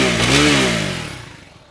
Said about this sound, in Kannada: ಗಾಡಿದು ಒಂದ್ಸಲ ಎಕ್ಸಾಸ್ಟ್ ನೋಟ್ ಕೇಳೋಣ.